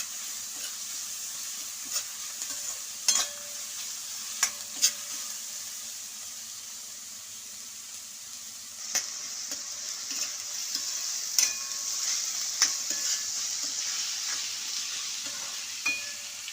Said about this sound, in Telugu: ఇప్పుడు ఉల్లిపాయలు వేగాలండి. మంచి గోల్డెన్ బ్రౌన్ రంగులోకి వచ్చేంత వరకు వేయించుకోండి.